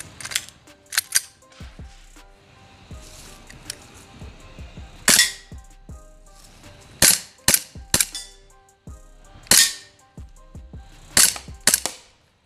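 An airsoft Glock 19X pistol fires about ten sharp, snapping shots at irregular intervals, some in quick pairs, with faint mechanical clicks and handling noise between them.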